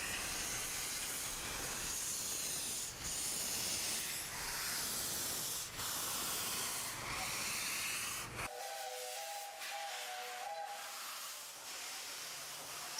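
Steam locomotive on Kenya's Mombasa-Voi line, a restored engine pulling a special safari steam service, giving off a steady loud hiss of escaping steam that drops away sharply into a softer sustained tone with a faint whistle-like pitch.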